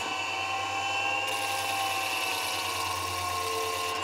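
A homemade slow-speed carbide grinder sharpens an edge on a tool held in a temporary vise, its steady motor whine and gritty grinding hum continuing evenly and close throughout.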